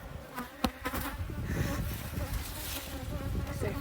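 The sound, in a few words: honey bees buzzing around newly installed queen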